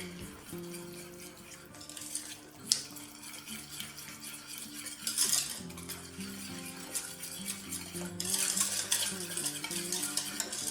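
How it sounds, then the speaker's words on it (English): A whisk scrapes and swirls steadily through plaster of Paris mixed with water for a candle vessel, close and continuous with rhythmic surges, over soft background music. "Just whisk it."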